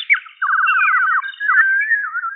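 A human voice imitates a warbling songbird, producing a rapid, trilling run of high whistled notes followed by sliding chirps, loud and close, with no other sound behind it.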